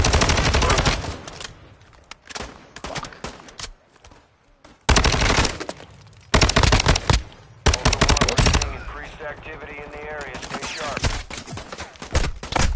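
Heavy automatic gunfire from a Warzone 2 DMZ match, loud bursts of rapid shots breaking up quieter stretches, with some voice underneath.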